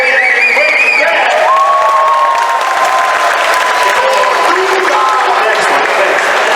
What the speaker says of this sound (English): you got to give him a round of applause for the role he had in Breaking Bad